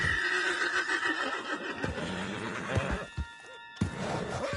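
A horse neighs loudly in Red Dead Redemption 2, a long whinny with hoof clip-clops, set against a rumbling background and a brief pause before the noise resumes.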